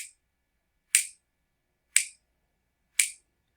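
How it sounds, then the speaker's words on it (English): Four crisp, bright finger snaps ring out alone at roughly one-second intervals, each sharp and close, used as body percussion. "The first one's going to just be snapping"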